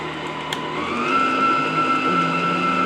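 An electric mixer whisks sugar on slow speed while cookie dough is made in a home kitchen, giving a steady close whirring hum whose pitch rises slightly as it spins up, then holds even for the rest of the clip.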